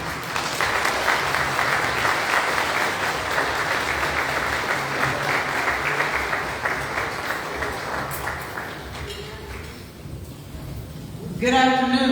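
An audience at an honors luncheon applauds in welcome for Karen Freeman-Wilson, sustained loud clapping that slowly thins and fades before a voice begins at the end.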